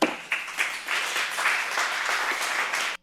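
Audience clapping fills a room for about three seconds, a steady, dense patter that swells after a few opening claps and cuts off abruptly at the end.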